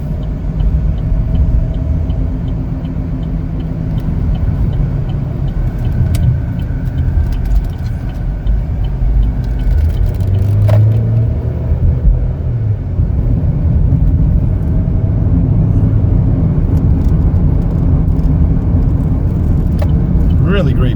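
A 2021 Chevrolet Equinox LS on the road, steady low engine and tyre rumble heard from inside the cabin throughout, with a person talking over it.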